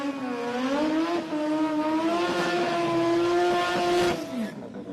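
A Mazda 13B rotary-engined race car screams at sustained high revs at a street-car drag event, loud and near with a steady rising-then-held pitch before easing off at the end.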